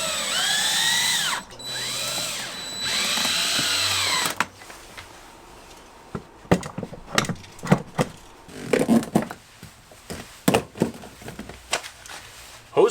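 Screws are driven through kit washers into OSB board with a cordless drill. A few seconds of steady whining drill runs with rising and falling pitch. Then comes a stretch of sharp knocks and clatter as the work is handled, all close and without talk.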